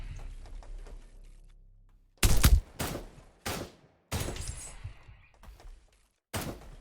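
Several loud, sharp blasts from an auto shotgun in the shooter game Project Genesis, fired in irregular single shots with short gaps between them and each ending in a brief ringing decay.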